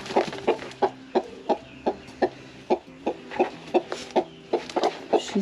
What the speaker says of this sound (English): She's the loudest of all of our chickens.